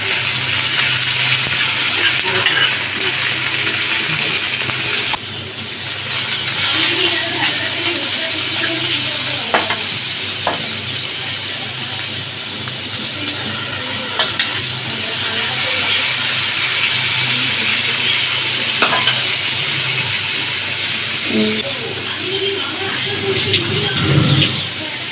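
Ginger garlic paste fries in a pan with a loud, steady, hissing sizzle that goes on throughout, broken by occasional clinks and scrapes of stirring close by.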